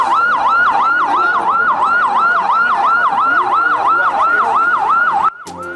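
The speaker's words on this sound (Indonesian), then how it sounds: "Suara sirine mobil ambulans bersahut-sahutan." Ambulance sirens wail loudly and close in a fast, regular rising-and-falling cycle, overlapping one another during a mass food-poisoning emergency in West Bandung, cutting off abruptly near the end.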